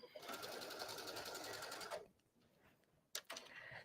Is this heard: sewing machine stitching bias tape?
yes